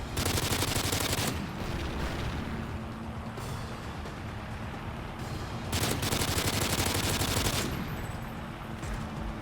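Rapid sustained gunfire from a sentry gun in MW3 Survival on the Bakaara map, dense continuous bursts with brief lulls and occasional explosive bangs mixed in.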